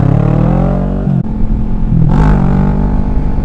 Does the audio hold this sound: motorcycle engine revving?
yes